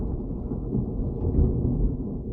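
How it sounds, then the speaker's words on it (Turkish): Low, continuous rumble of thunder rolling in the distance, swelling slightly midway, with no voices. "Dışarıda gök gürültüyor."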